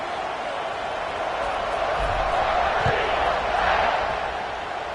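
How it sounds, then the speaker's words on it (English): Stadium crowd buzzing after a score in a college football video game, a broad continuous roar of many voices that swells slightly and stays loud throughout. "this crowd is buzzing after that last score."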